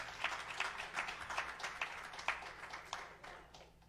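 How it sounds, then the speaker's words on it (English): Scattered hand clapping from a church congregation during a sermon, a loose rhythm of soft claps spread over a few seconds at moderate distance, with no voices over it. "Give her a hand clap."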